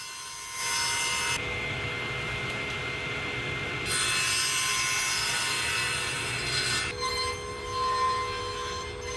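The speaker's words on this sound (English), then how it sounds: "I use the table saw, just setting the workpiece in place against the fence and then raising the blade through" A table saw cuts plywood as the blade is raised through the workpiece against the fence, a loud steady whine and rasp that shifts in pitch partway through, close and without talking.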